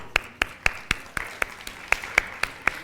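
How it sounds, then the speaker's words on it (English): A small audience claps at a talk on confident money management for women, about ten sharp, evenly spaced claps over a few seconds, close and clear with no voices. "So give yourselves a clap"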